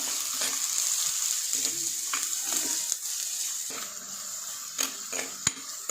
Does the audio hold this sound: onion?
yes